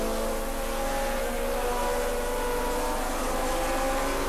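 Racing motorcycle engine at full effort during the 1986 Swann Series race at Surfers Paradise, a steady loud droning whine with layered harmonics holding throughout, no voices.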